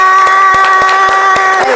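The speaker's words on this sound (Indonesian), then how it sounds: "Oke, tepuk tangan" Students clapping hands together in a classroom, a quick, evenly spaced run of sharp claps heard over a steady ringing tone.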